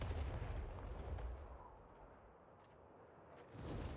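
A dragon's fire breath attack in Crimson Desert, a loud roaring rush of broadband blast that swells at the start, eases through the middle and surges again near the end, with no talk over it.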